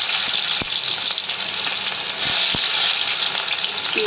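Onions go into a small amount of hot oil in a wok, setting off a loud, continuous close sizzle with a couple of sharp clicks from the pan, and no speech.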